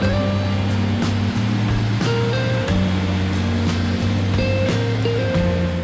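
A fast-flowing river rushes beneath a newly built bridge in a mountain valley, a loud, constant roar of churning water that fills the whole scene, with steady tonal hums layered over it.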